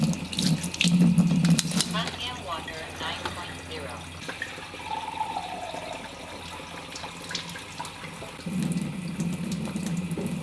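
Water runs from a tap in a home, a steady rushing stream at the start and again at the end, with a quieter stretch and faint sounds in between.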